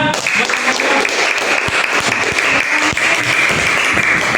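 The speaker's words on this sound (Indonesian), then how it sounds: "Beri tepuk tangan semuanya" A classroom of students claps together after a group answers a question correctly in a lesson on the holy books, a dense, steady burst of many hands with a few voices mixed in.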